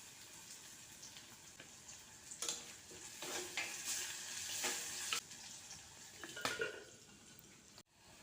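Onions sizzling in a pan for beef roast while a spoon stirs them, a steady soft fry with scraping strokes and clinks rising and falling, close and fairly quiet.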